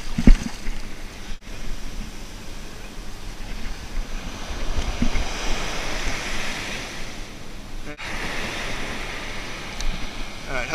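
Ocean surf rolls steadily onto a New Jersey beach during shark fishing, a continuous broadband wash with two brief dropouts and a louder swell near the start, wind buffeting the microphone throughout.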